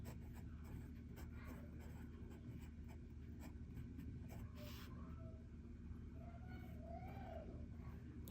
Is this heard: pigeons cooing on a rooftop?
no